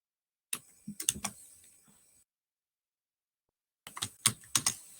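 Quick bursts of typing on a computer keyboard, a few clicky keystrokes close to the microphone, then a silent pause before another short flurry of keys.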